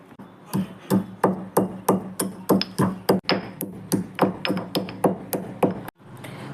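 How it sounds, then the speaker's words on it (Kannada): A spoonful of black pepper is pounded coarsely, about twenty sharp, evenly spaced thuds in a steady rhythm, close and loud, with a brief pause near the end and no voices. "1 ಸ್ಪೂನಷ್ಟು ಕಾಳು ಮೆಣಸನ್ನು ಸ್ವಲ್ಪ ದರಿಯಾಗಿ ಕುಟ್ಕೋಬೇಕು."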